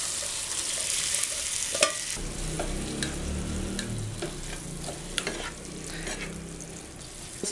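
Egg noodles being stirred in a pan with ketchup and soy sauce, a steady sizzle with scraping and clicking spatula strokes throughout, close and moderately loud.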